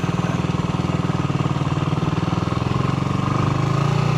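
A motorcycle engine runs steadily near the listener as the bike pulls away slowly in first gear, a continuous low pulsing drone that lifts slightly in pitch toward the end, with no talk over it.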